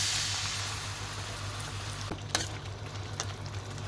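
Spiced masala for a Bengali egg chachori, already fried down with tomato, simmers and sizzles steadily after a splash of water goes in. It makes a continuous close hiss with a low hum and a few faint pops.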